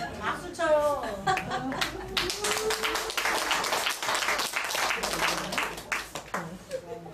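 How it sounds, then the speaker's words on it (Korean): Audience clapping at a church middle school entrance ceremony in Jeju, with scattered claps rising under a man's speech that continues over them. "박수 쳐요."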